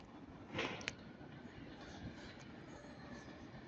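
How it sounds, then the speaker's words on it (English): British Rail locomotive 39121 passing Ardwick on a Manchester Piccadilly to Rugby working, a steady moderate rumble of rail noise with a brief louder clank and squeal early on, no voices. "this is 39121, working 1 Alpha 41 from Manchester Piccadilly to Rugby"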